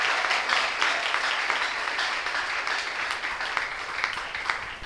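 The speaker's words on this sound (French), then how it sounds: "Ça s'applaudit très très fort, cher public." A studio audience at a church-focused broadcast applauds loudly, a thick continuous roar of many clapping hands that holds steady and eases slightly near the end.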